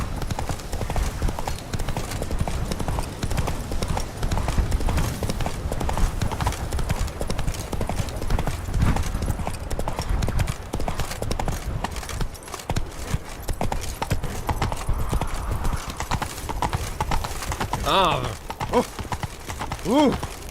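Roach the horse galloping in The Witcher 3: Blood and Wine, a steady, rapid clip-clop of hooves running continuously and loud, with brief voices over the hoofbeats.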